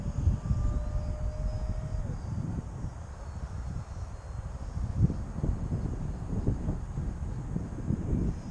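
A foam and balsa model airplane comes in to land on a field, its thin motor whine faint under steady wind noise that rumbles the microphone throughout.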